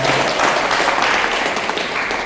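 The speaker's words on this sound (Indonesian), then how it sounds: "Tepuk tangan." A seated audience claps loudly and continuously at a debt-repayment seminar, a dense, even wash of applause from start to finish with no pauses.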